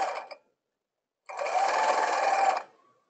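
A sewing machine zigzag-stitches over fishing line to gather tutu fabric: a short whirring burst, a pause of silence, then a longer steady close run of rapid stitching that stops cleanly.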